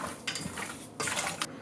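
A spoon scrapes and clinks against a bowl in a few quick strokes while seasoning for oxtail is mixed: parsley and a little curry powder. The strokes are close and fairly quiet, with no one talking.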